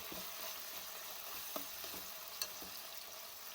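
Vegetables with peas and capsicum fry in a pan for paneer fried rice, giving a soft steady sizzle with a few light stirring clicks, faint and alone.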